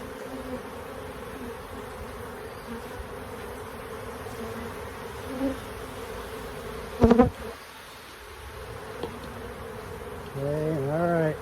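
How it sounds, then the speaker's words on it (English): Honey bees buzzing around an opened hive during an inspection, a continuous close drone with a few brief louder passes and a short knock partway through. "Most of the bees you see that are flying off are deciding to investigate who's trying to get"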